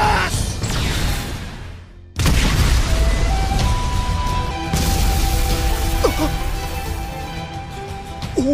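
An aura explosion in an anime fight hits as a loud boom, followed by a dense roaring rush of energy and debris. Whooshing tones sweep through the sustained blast.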